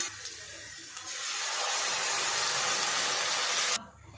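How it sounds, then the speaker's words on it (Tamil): Ground paste for idli kurma pours into a cooking pan, giving a steady wet hissing rush that builds after a second and runs for about three seconds before stopping abruptly. "அப்போ நம்ம அரைச்சி வச்சுட்டு ஊற்றிக்குவோம்."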